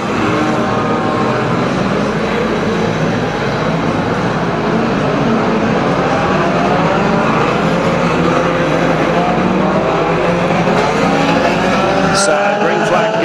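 Unlimited banger racing cars roar away at the green flag on a Kings Lynn raceway, a loud, dense, continuous engine wall with tyre noise throughout, likely under a commentator's voice.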